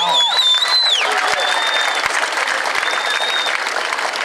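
Audience applause for the band at an outdoor summer evening concert, a dense steady clapping from a sizable crowd with a few high whistles, loud and sustained throughout.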